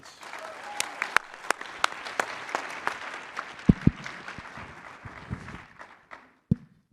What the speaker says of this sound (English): Let's get them started with a nice round of applause.